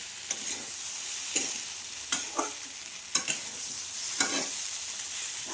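Frying in a pan while cooking a fish curry with green bananas and mustard greens gives a soft, continuous sizzle. Several light scraping taps from stirring come at irregular intervals, close and fairly quiet, with no voices.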